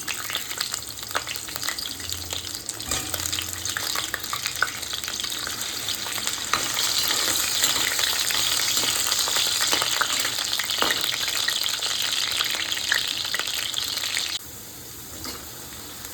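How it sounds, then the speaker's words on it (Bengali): Potatoes fry in hot mustard oil in a wok, giving a steady, close crackling sizzle with occasional stirring clatter; the sizzle grows denser midway and drops to a quieter hiss near the end. "এবার এই তেলে প্রথমেই আমি আলুগুলিকে ভেজে নেব।"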